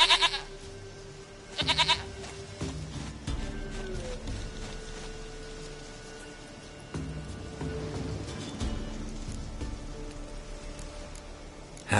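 A goat in the Witcher III game world gives a couple of short bleats near the start, followed by quieter ambient game sounds with a light patter like rain.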